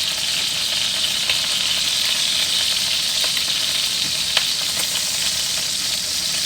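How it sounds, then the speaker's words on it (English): Pork chops brown in an oiled pan, producing a dense, steady close sizzle and hiss with a few faint ticks and pops, heard alone without any talking. "we're going to go ahead and brown the other side"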